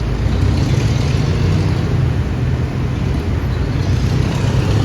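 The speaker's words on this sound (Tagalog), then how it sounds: "Sobrang traffic oh." Dense road traffic on a busy street rolls past in a continuous low rumble of car engines, steady and fairly loud throughout, with no voices.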